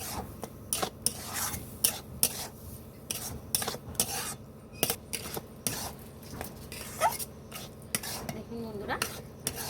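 Semolina cooking in cow's milk in a pan, stirred continuously: rhythmic, close scraping and rasping strokes against the pan over a faint sizzle, with a brief spoken remark.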